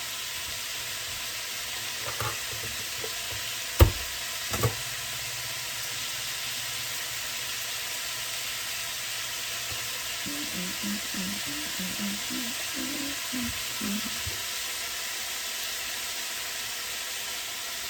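A couple of small garlic cloves sizzle in a hot pan for soup, a steady close hiss with a few brief clatters early on and a soft bubbling stretch later.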